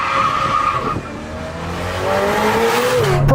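Novitec Ferrari F8 Spider supercar, open-roofed and tuned to 802 hp, screams through rising revs with a sharp high-pitched wail, briefly dipping then climbing again as the engine pulls hard, loud and close with no talking.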